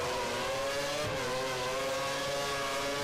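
Formula One car engine in the F1 2013 racing game, running at Spain in another car's slipstream, a steady high-pitched whine holding near constant revs for the whole stretch, loud and close with no talk over it.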